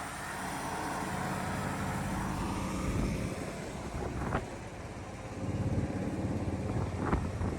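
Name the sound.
1969 Dodge Dart Swinger 340 engine running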